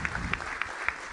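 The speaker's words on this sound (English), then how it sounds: "Please give a big round of applause to Patrick for this." Applause from a conference audience after a DevOps keynote talk, heard as a brief, fairly faint patter of clapping with a few sharper claps standing out.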